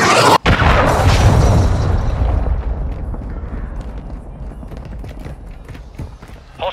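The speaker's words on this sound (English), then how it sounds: "Hostiles launched a cruise missile." A cruise missile explosion in Call of Duty: Modern Warfare II lands as a loud booming blast, followed by a long rumbling decay with scattered debris clatter fading out.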